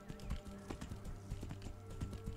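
Horse hooves clip-clop at a steady trotting rhythm in a Skyrim-like fantasy video game, moderately close and fairly quiet, with no talk over them.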